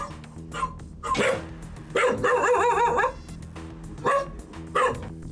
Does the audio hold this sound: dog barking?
yes